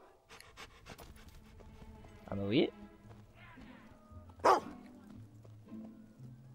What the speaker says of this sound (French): Le chien sait déjà tout de suite où il faut aller.